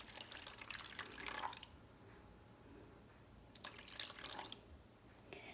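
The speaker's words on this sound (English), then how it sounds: "Now I'm going to add my 100 grams of water." Water splashes and trickles into a bowl in two short bursts, close and fairly soft, with quiet handling noise between, 100 grams poured in a kitchen.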